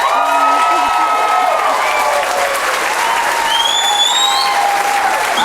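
Dense applause with scattered whoops and cheers fills a town hall crowd on economic justice, steady and loud from start to finish without a break.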